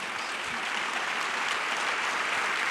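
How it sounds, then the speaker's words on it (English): Steady audience applause fills a church hall after a Q&A session, a dense continuous wash of clapping at even level throughout, with no voices breaking through. "Please let the applause continue."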